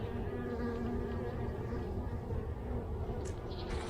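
Honey bees swarm loudly from an opened hive during an early-year February inspection, a dense, continuous drone close to the listener, with faint handling noises toward the end.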